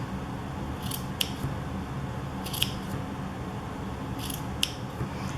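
Scissors snip through craft paper in three crisp, separate cuts spaced evenly apart, each a short bright snap standing out over a steady low room hiss with no talking.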